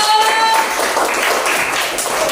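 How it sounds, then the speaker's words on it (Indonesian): A classroom group claps for group one, with dense, loud, continuous applause filling the whole moment at close range. "Tepuk tangan untuk kelompok 1."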